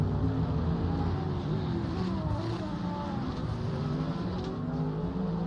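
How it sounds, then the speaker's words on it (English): Steady low engine rumble and drone of several GT race cars on a track, continuous and fairly loud, with some pitch shifts as engines rev, no voices. "let's hear these cars roar on track"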